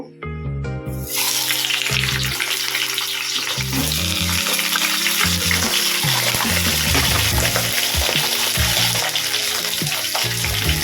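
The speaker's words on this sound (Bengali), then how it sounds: "কড়াইটা গরম হয়ে গেছে, আমি হালকা অল্প তেল দিয়ে মাছের মাথাটা ভেজে নেব।" A fish head fries in a little hot oil in a wok for a rohu-style curry, giving a loud, steady sizzle and crackle throughout, with occasional stirring sounds over a low hum.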